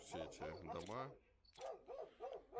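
A dog barks amid yurts and houses in a hillside district of Ulaanbaatar, Mongolia, its short calls mixed in with someone talking close by.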